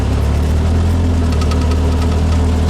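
Classic VW engine fitted with Pertronix Flame Thrower ignition drives down a street in second gear, a loud, steady droning hum with constant low rumble and faint vibration.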